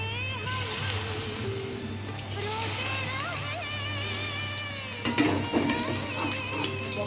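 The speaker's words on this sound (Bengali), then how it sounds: "পকোড়াগুলো আমার ভাজা হয়ে গেছে" Drumstick leaf pakoras in a gram flour and maida batter with nigella seeds frying in mustard oil, a steady close sizzle with a low hum underneath and a brief louder clatter near the end.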